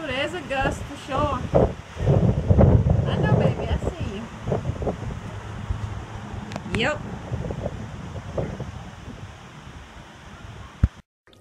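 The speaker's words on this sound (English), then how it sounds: "Ooh, there's a gust for sure." Wind buffets the microphone in rough, uneven gusts as Hurricane Ida approaches, strongest early on, with a person talking over the blustery rumble.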